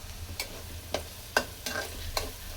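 Onions frying in a pan until lightly reddish, a soft steady sizzle with a few sharp stirring scrapes spaced irregularly, close and fairly quiet with no talk.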